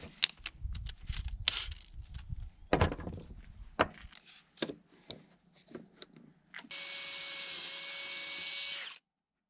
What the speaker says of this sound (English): before I start drilling with reckless abandon on this nice piece